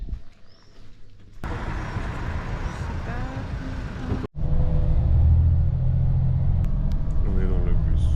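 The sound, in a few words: bus driving, interior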